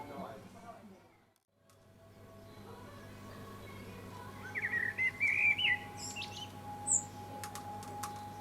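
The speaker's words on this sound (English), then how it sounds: "watching the birds" Garden birds chirp and call on a sunny Sunday afternoon in an English garden, bright bursts of tweets over a steady low hum in the second half, with faint background noise and no talk.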